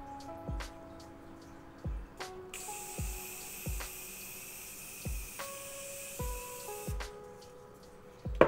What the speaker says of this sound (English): 8 to 10 inches, even spray, let's mist.